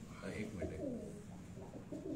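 A pigeon gives soft, low cooing calls close by, a continuous throaty murmur at a competition pigeon loft.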